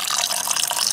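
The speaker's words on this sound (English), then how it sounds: "Just a little bit of water." Stored bleach-treated water pours steadily into a cooking pot for a prepper-style stew, a continuous bright splashing stream heard close and alone for a second.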